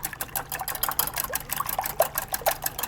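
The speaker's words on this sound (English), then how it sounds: "I'm just going to add a little bit of water to this just to help loosen it up a little bit." Water trickles and splashes into a bowl of beaten eggs in a kitchen, a small, steady pour with faint liquid patter, close and fairly quiet with no talking.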